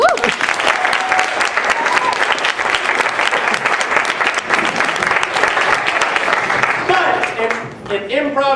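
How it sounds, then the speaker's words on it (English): Audience at an improv comedy show applauds loudly and steadily, dense clapping with whoops and cheers mixed in, the roar easing slightly near the end. "Give me a round of applause."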